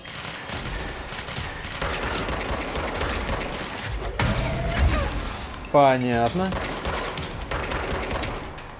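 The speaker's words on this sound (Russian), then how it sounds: "Стрельба." Rapid gunfire from the video game Control, with bursts of shots under continual game noise and a brief mechanical whine near the middle, while someone talks briefly over it.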